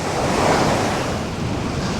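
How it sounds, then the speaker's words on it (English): Wild wind and crashing surf at a beach in Cha-am, Thailand, during stormy weather: a loud, steady roar of waves mixed with gusty wind buffeting the microphone, with no voices. "because it's the wild weather, the wild water"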